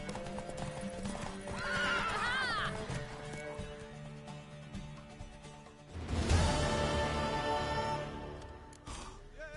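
Horse in a PS4 video game neighing and whinnying twice, with steady hooves clopping throughout at close range, loud and alone without talk.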